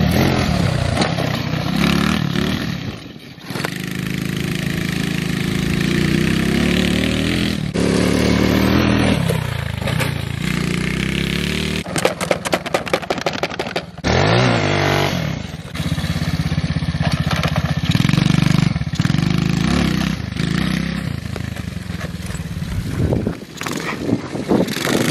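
A Taotao Amazon pit bike engine, with the throttle taped open, revs loud and close and holds a high, rasping drone for most of the time, dipping and surging a few times.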